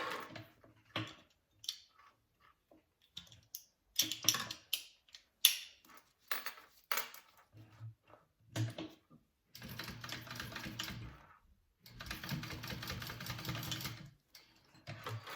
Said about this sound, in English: And then you're gonna flip and top stitch.